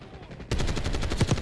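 A light machine gun in a video game fires with the trigger held down, a sudden continuous stream of loud, evenly spaced shots that starts abruptly and keeps hammering without pause.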